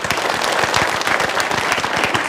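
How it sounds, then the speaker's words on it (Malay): Audience applause for two panelists at the close of an evening Malaysian talk-show forum, a dense, steady patter of many hands clapping throughout, fairly loud and continuous. "Kita beri tepukan kepada kedua-dua panelis kita"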